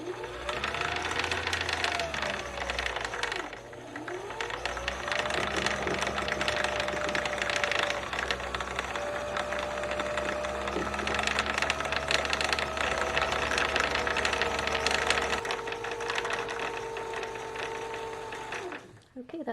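A Kenmore 385 sewing machine winds a bobbin with a steady whirring motor hum that rises and holds for about fifteen seconds, then stops, with a person talking quietly.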